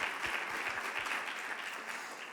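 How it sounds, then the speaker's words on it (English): A conference crowd at a mayors and business leaders breakfast gives a brief, steady round of applause. It is moderately distant and continuous throughout. "You give a round of applause to these mayors that helped me out up here today"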